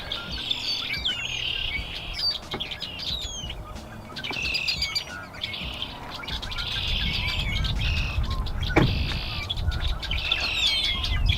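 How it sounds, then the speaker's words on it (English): Many birds chirp and trill steadily outdoors by the Yellowstone River, overlapping calls at moderate distance over a low rumble of wind or flowing water. "Do you hear those birds?"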